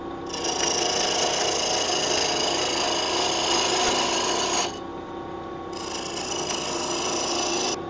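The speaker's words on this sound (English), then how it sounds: "First thing I'm going to do is going to round the blank off. So I'm going to use a 3/8 inch bowl gouge for that." A cross grain wood blank spinning on a lathe while a 3/8 inch bowl gouge rounds it off, giving a steady high cutting hiss that stops briefly partway through, then resumes.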